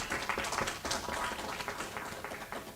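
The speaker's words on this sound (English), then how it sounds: "Clap for them." An audience at a pulmonary rehabilitation dissemination event at Makerere University applauds a research team with steady, dense clapping from many hands, close and sustained for a few seconds with no voices over it.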